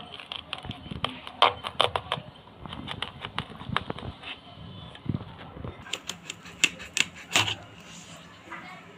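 A knife slices through a chalta (elephant apple) in a home kitchen, making a string of sharp, crisp clicks and crunches at an uneven pace, close and fairly quiet, while someone talks.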